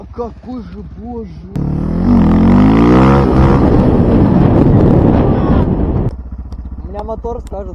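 A motorcycle engine revs hard during stunt riding practice, a loud sustained roar with rising and falling pitch lasting about four seconds, with voices talking before and after it.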